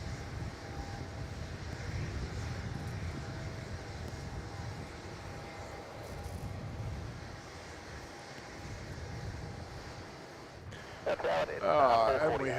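A Boeing 787-9 Dreamliner, about 8.5 years old, on CXA 804 at Melbourne Airport, gives a steady distant jet roar with wind across the microphone, while a voice talks over it throughout.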